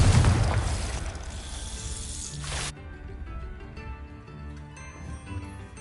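A Confringo explosion spell in Hogwarts Legacy bursts with a loud booming blast that cuts off sharply, leaving a quieter fizzing, rumbling tail.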